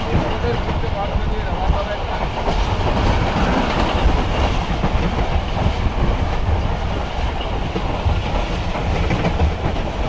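Rehman Baba Express train running through Dhabeji station in Pakistan, heard from on board as a loud continuous rumble with rhythmic rattling of wheels and carriages throughout.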